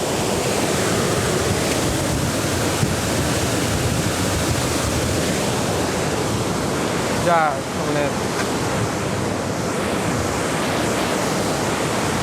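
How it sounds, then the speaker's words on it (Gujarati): Water pours through the opened gates of the dam at Bhanvad during heavy rain, a loud, unbroken roaring rush that fills the whole scene, with a brief voice heard over it. "બહુ જોરદાર સ્પીડ છે પાણીની અત્યારે"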